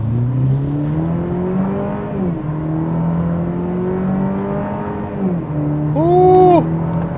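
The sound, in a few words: 2026 Cadillac CT4 accelerating on a highway in manual shift mode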